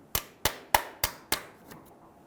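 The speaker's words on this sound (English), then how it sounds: "I'm going to make a small hole in the bottom of the filter using a little punch and a hammer" Five sharp, evenly spaced metallic taps of a hammer driving a punch into a car oil filter, close up, then a fainter final tap.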